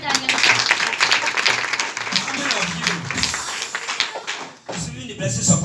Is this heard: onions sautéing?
no